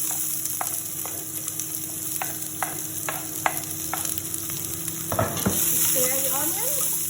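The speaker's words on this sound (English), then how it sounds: "now we have to heat the oil, and when it's hot, you have to put the onion." Onion fries in hot oil with a constant hiss and crackle, broken by a series of light spoon taps and scrapes against the pan, the sizzle swelling a little louder near the end.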